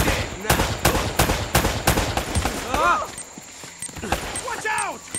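Rapid bursts of gunfire from the Uncharted video game, several loud sharp shots in quick succession during the first two seconds, followed by softer scattered shots under in-game voices.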